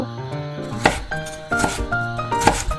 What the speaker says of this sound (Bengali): এখন আমি এই টমেটোটাকে মুছে তারপর এটাকে সুন্দর করে কেটে নিব